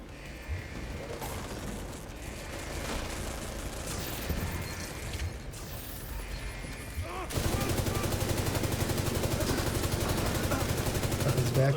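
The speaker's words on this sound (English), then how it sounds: "I shoot them with L86s, a British" Rapid bursts of L86 British light machine gun fire in a video game, loud and sustained, growing denser and heavier toward the end with steady repeated shots.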